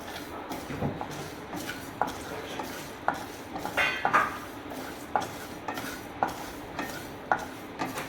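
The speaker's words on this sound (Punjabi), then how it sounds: "ਇਹ ਆਪਾਂ ਸਾਰੇ ਮਸਾਲੇ ਪਾ ਦਿੰਨੇ ਆ ਇਹ ਆਪਾਂ ਹੁਣ ਨਾਲ ਦੀ ਨਾਲ ਹਿਲਾਉਂਦੇ ਰਹਾਂਗੇ" Whole spices roasting in a frying pan over a gas flame are stirred with a utensil, giving repeated scraping and clinking strokes at a steady rhythm over a faint sizzle, close and fairly loud.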